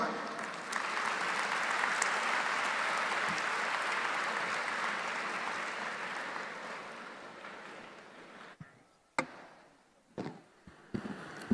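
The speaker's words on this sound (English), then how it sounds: "Can we please have a huge round of applause and a standing ovation?" An audience at a conservation talk gives sustained applause that swells and then fades over several seconds, ending in a few scattered, close handclaps.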